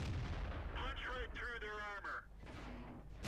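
Tank cannon shots boom in the World of Tanks video game, heavy blasts mixed with game sounds while a voice talks over them.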